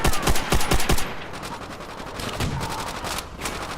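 Tommy gun fire in World at War, a rapid close burst of machine-gun shots that trails into sustained distant gunfire and battle noise.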